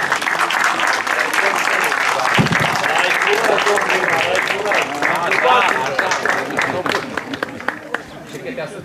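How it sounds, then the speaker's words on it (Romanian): Loud, dense applause from a crowd at the opening ceremony of a forest reserve festival in Tătăruși, sustained and close with voices and chatter mixed in, tapering toward the end. "Cele mai tare aplauze au fost la momentul ăsta"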